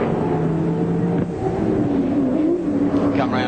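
Touring race cars at Phillip Island in the 1995 Australian Touring Car Championship round, a continuous loud engine drone with a rising and falling pitch sweep as cars pass, steady wind-blown roar throughout.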